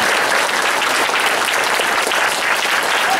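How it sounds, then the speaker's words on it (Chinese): A church congregation gives the choir, conductor and accompanists a loud, sustained round of applause, many hands clapping in an even, continuous wash throughout. "咱搁一摆用真大的掌声代表咱的歌声。"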